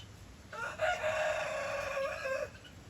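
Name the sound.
rooster crowing at farm animal sanctuary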